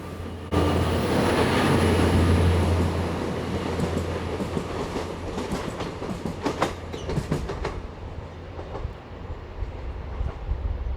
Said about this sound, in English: This GWR Class 150 Sprinter is departing from platform 3 along the branch line to St Ives